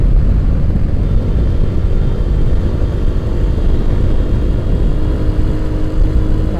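A motorcycle engine drones loud and steady during a solo night ride after heavy rain, with a low rumbling roar and wind noise that barely changes across the stretch.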